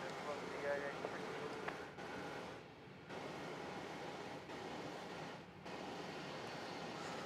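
An Airbus A380 rolling for takeoff at Melbourne Airport makes a steady, distant engine roar that keeps on through the clip, with people talking over it.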